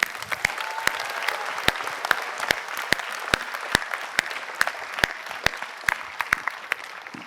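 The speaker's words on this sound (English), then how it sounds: "Round of applause for him." An audience claps for a speaker who has just described failed startups, a moderately sized room of applause with distinct sharp individual claps standing out over a continuous wash, sustained evenly for several seconds.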